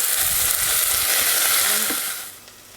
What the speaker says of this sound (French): dans une casserole avec de l'huile d'olive chaude, on va mettre l'oignon émincé et l'ail